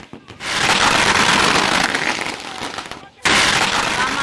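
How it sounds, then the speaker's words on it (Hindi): Dense fireworks crackle and pop continuously as election supporters celebrate a win, a loud near barrage that drops almost silent for a moment before bursting back at full strength. "जीत के बाद इन समर्थकों ने जमकर आतिशबाजी कर खुशी मनाई"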